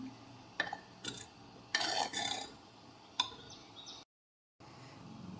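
A spoon scrapes and knocks around a pot of thick curry made with amaranth stems, in a few short bursts of stirring, with quiet gaps between strokes and no talking.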